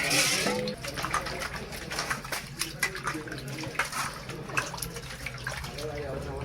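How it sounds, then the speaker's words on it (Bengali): Boal fish being washed by hand in water, with sloshing, splashing and trickling that come in irregular bursts, and a faint voice talking in the background. "জল দিয়ে তো দেখতে পাচ্ছেন বন্ধুরা খুব সুন্দরভাবে মা মাছগুলোকে ধুয়ে নিচ্ছে"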